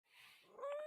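A dog whimpers and gives a short high yelping bark, the whine rising at the end, fairly close and alone with no talk over it.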